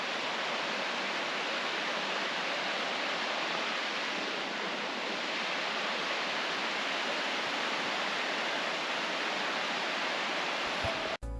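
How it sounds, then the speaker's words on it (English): Spring-fed waterfall tumbling about 100 feet down a forested, glacier-carved cliff, a steady broadband roar of falling water that holds evenly throughout before cutting off abruptly at the end. "Vidae Falls is a picturesque spring-fed waterfall that tumbles approximately 100 feet down a forested, glacier-carved cliff."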